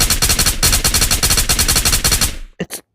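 Automatic gunfire from a strong-recoiling gun in the video game Ghost of Tabor, a loud close burst of rapid shots for about two and a half seconds, then two brief trailing sounds, with no talking.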